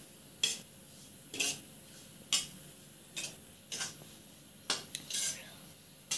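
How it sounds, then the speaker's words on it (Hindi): Wheat flour being dry-roasted in a pan for gond laddu, heard as a series of sharp utensil scrapes and stirring strokes at roughly one-second intervals, close and fairly quiet against a near-silent background. "और अभी हमें सेकना है अच्छे से आटे को।"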